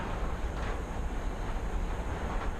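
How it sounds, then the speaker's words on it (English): Strong gusts buffet a parked step van at a truck stop, a steady low roaring rumble with rising and falling surges pressing on the vehicle body, close and continuous with no talk. "It is super windy out."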